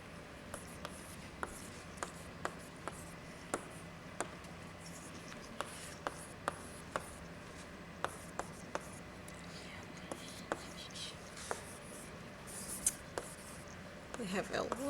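A lecturer writes on a board during a math talk, each stroke making a short, sharp tap or scratch in an irregular rhythm over a quiet room tone. A low voice murmurs in the background.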